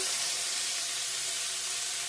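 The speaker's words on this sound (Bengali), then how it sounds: "আগে ভাজা ভাজা করে নিই ভালো করে।" Spices with salt and turmeric frying in a pan at home, a dense, steady close sizzle with no talking.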